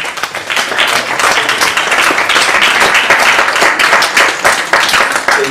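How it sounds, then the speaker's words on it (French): An audience at a talk on ecological conflict in the Mascarene Islands applauds the speaker Dominique, a loud, continuous wash of clapping from a roomful of people throughout. "je crois que nous pouvons applaudir Dominique"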